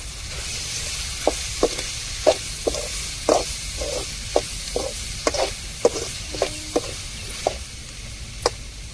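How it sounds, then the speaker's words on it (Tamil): Sliced okra fries in oil in a pan with a steady soft sizzle, broken by a series of sharp clicks and taps from stirring, with no talk. "வெண்டைக்காவில் வந்து நம்ம எண்ணெயில் போட்டு பொரிக்கும் போது அந்த வலுவலுப்பு தன்மையெல்லாம் போயிடும்"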